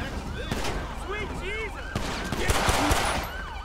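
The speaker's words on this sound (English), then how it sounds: "He's still shooting." Gunfire in GTA V with the LSPDFR police mod: rapid bursts of shots and sharp cracks around a traffic stop in Sandy Shores, over a humming vehicle engine and a voice talking.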